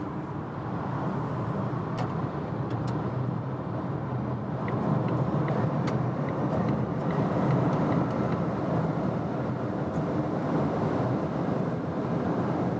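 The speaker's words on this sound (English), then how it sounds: "the new Volvo XC40 EV, and let's accelerate it out" A Volvo XC40 EV electric SUV accelerates on a German Autobahn, heard as a steady, loud wash of road and wind roar that holds even throughout, with no distinct motor whine and no talking.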